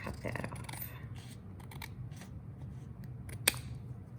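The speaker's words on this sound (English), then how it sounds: "I can kind of feel where the scissors meet the cardstock" Scissors snip through cardstock close up, several crisp short cuts in a quick cluster followed by scattered softer slices and one sharp final snip, with a quiet background.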